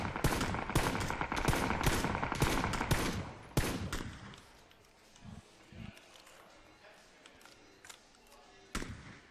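Bursts of rapid gunfire from the video game PUBG, played at an esports arena in Las Vegas, loud and dense at first, then sparser shots under excited shouting from players.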